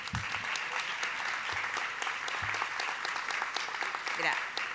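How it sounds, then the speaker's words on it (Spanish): An audience at a civic event in the National Congress applauds for Fanny Mandelbaum, steady crowd clapping sustained at moderate distance, with a few low thumps underneath. "vamos a hacer un aplauso para Fanny Mandelbaum"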